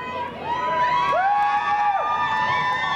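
A crowd at the bottom of a ski run cheers skiers during an all-night 24-hour race at Aspen, with loud sustained shouting and rising whoops swelling over a constant roar of voices.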